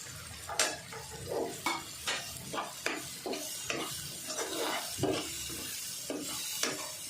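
Spices and tomato frying in oil while being stirred, with rhythmic repeated scrapes and clinks of a spoon against the pan over a continuous sizzle, close and fairly loud.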